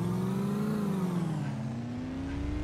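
A car engine drones steadily in the military video game Arma II, its pitch rising then sliding lower as it shifts and accelerates, continuous and fairly close with no talk.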